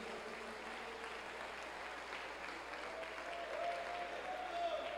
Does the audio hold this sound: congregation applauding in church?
yes